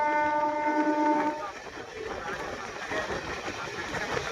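A train on the new Jayrambati line to Bankura pulls into Gopinathpur, giving a short tonal horn at the start before settling into a steady, moderately close rolling rumble.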